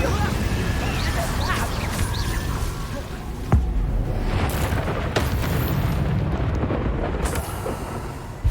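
Confringo and Incendio spells blast in Hogwarts Legacy, with booming explosions and whooshes including a sharp hit partway through, under game rumble and spoken voices.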